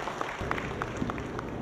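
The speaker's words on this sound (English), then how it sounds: "let's give all of the elected officials who have supported this project a tremendous round of applause" Steady audience applause at a building topping-off ceremony, a dense patter of many hands clapping at moderate loudness throughout, with no talk over it.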